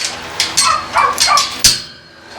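Alaska, a house dog on a homestead, gives several loud, close barks in a quick irregular burst, then falls quiet toward the end.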